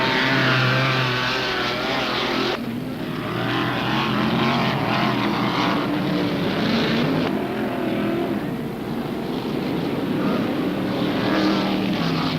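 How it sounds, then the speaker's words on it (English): Big four-wheel drive off-road racing vehicle with a finely tuned engine, loud sustained roar rising and falling as it charges across the Riverside course, shifting pitch with gear changes. "There is nothing quite like the sound of a finely tuned engine and the sight of a big four-wheel drive vehicle charging"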